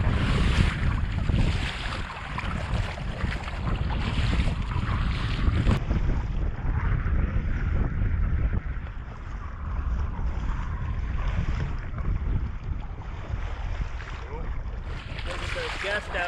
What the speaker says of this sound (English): Those gusts I was talking about, they're hitting me here on the side.